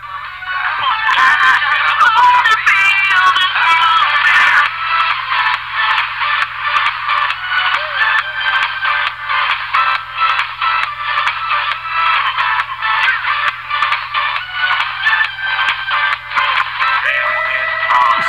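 Recorded pop track plays loud and dense from start to finish, with a steady beat, a full busy mix and no speaking over it.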